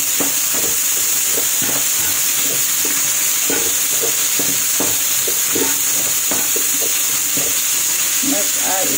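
Garlic frying in a pan: a constant loud sizzle and hiss with repeated scraping and stirring clatters throughout, close up.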